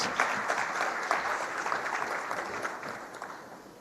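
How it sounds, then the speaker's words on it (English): Audience applause in a conference room after a panel discussion on job creation and skills policy, steady clapping from a moderate crowd for almost four seconds, tapering off at the end. "a round of applause for an excellent discussion"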